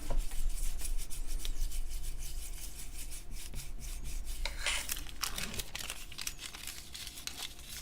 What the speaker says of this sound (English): And then you rub with your roller until there's no more white.